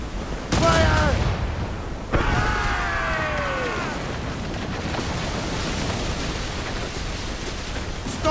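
Ship cannons fire broadside in an Assassin's Creed Rogue naval battle: two heavy, booming volleys of overlapping blasts about a second and a half apart, followed by a sustained rumbling roar of wind and sea, loud and close.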